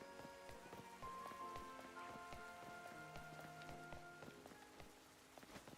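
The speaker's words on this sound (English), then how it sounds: "It's raining." Rain patters steadily across surfaces in Pokémon Legends: Z-A, a soft continuous wash of droplets mixed with faint game tones and occasional footsteps, fairly quiet overall.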